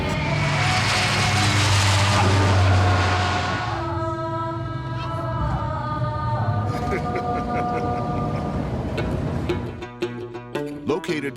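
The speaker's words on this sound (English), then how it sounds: "you hang onto your seat as the plane negotiates some alarming maneuvers through narrow mountain passes" An airplane threading through narrow mountain passes on approach to Bhutan's airport gives a loud engine drone at first, then fades under music and other layered sounds.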